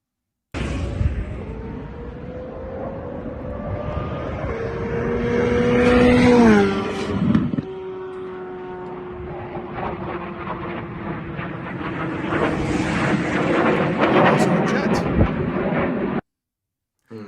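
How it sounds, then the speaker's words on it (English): A Corvette C8 Z06 roars past in a flyby, rising to a loud, high-pitched peak and then dropping in pitch as it passes, followed by a broad jet-like rush that swells and fades. "This is his C8 Z06 doing a flyby."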